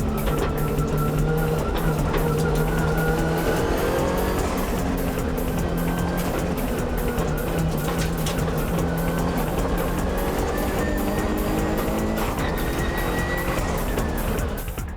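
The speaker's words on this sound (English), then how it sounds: "But Orido's Impreza is closing in on the downhill corner." A Subaru Impreza and a Nissan S15 race hard down a mountain road, their engines droning loudly and steadily throughout with rising and falling revs as they chase through the corners.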